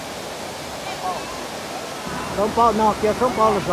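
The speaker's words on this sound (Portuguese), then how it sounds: "Que coisa linda, pessoal. Cachoeira dos Pretos aqui" The Cachoeira dos Pretos waterfall near Joanópolis, São Paulo, gives a steady, loud broadband rush throughout, with people talking over it in the second half.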